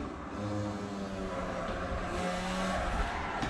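A car driven in the Assetto Corsa racing game on a Thrustmaster wheel setup: a steady, fairly quiet engine drone with a faint tire squeal running underneath, with no talking.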